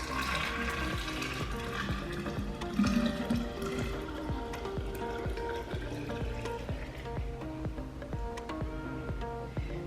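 Homemade almond milk pours steadily from a spouted bowl into another container, a continuous close liquid splashing and trickling with no talking over it.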